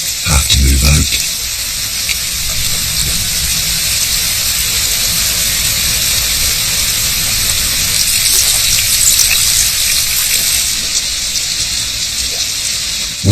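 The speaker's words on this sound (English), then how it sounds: "The annual storms in the African Congo have arrived." Storm in the African Congo over sand flats, a loud, steady rushing hiss of heavy rain and water, with a brief deeper rumble at the start and a constant wash throughout.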